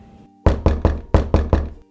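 Knocking on a wooden door, six loud, close, sharp raps in quick succession, heard alone.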